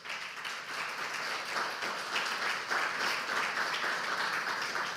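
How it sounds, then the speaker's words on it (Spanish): Church congregation applauds during a sermon, a dense, steady wash of clapping that holds evenly for several seconds at moderate volume. "dale un aplauso por favor"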